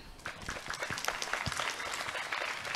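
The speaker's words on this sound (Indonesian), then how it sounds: "Tepuk tangan semuanya." Audience applause at a Quran memorization graduation ceremony held for Maulid Nabi, a fairly faint patter of scattered hand claps that builds and continues steadily, with no talking.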